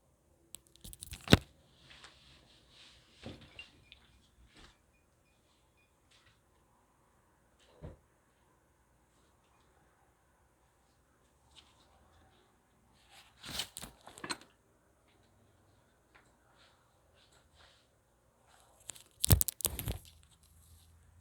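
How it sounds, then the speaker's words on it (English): Earphones are fumbled back into place in scattered bursts of close rustling, scraping and tapping handling noise, separated by long quiet gaps, with no talk. "I just put my earphones back in"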